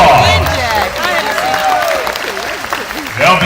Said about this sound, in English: let's give the band of Benjack a big round of applause